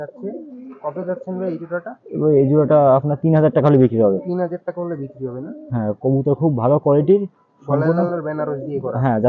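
Highflyer pigeons coo with low, throaty warbling calls in close, repeated bursts that nearly fill the clip, loud and near, with brief pauses between phrases.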